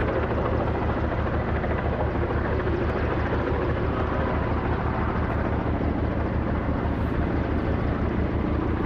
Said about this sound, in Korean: 헬기가 일으키는 바람으로 눈이 매섭게 날리지만